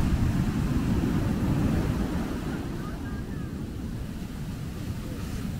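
Big ocean waves wash and break on a beach in a constant, loud roar, blended with wind buffeting the microphone and no clear gaps between surges.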